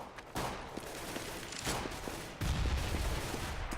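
Gunfire in the video game Counter-Strike during a competitive match, with rapid bursts of shots and dense crackling fire, fairly faint, in overlapping volleys that grow busier toward the end.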